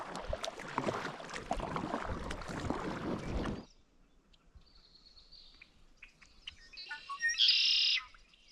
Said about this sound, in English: As it got lighter outside, all kinds of birds showed up.